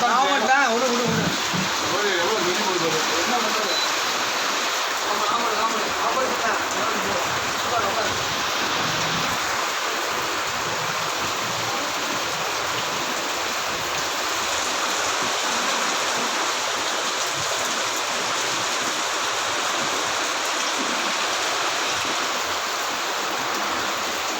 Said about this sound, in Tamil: கோடை மழை கோடை இருந்தாலும்